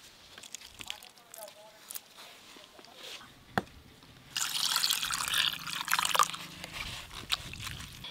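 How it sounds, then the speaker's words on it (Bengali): Grated potato being washed by hand in water in a home kitchen, with soft drips, trickles and sloshing that grow louder and busier in the second half, close and fairly quiet. "এইভাবে হাত দিয়ে ঘষে ঘষে ধুতে ধুতেই কিন্তু আপনারা বুঝতে পারবেন।"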